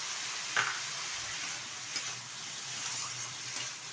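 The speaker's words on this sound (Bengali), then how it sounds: "একটু নেড়ে চেড়ে নিচ্ছি ভালোভাবে নেড়ে চেড়ে নিয়েছি" A radish curry with chopped coriander and slit green chillies gets stirred in a pan, a soft continuous sizzle with a couple of faint utensil clicks.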